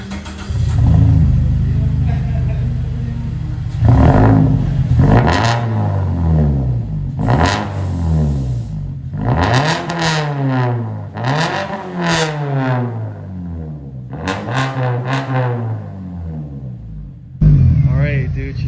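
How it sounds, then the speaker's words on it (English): A car fitted with a custom straight pipe single exit exhaust revs repeatedly, climbing and falling in loud, close throttle blips over a deep idling rumble, with a sharp burst near the end. "we're gonna get the first hear of the single exit exhaust"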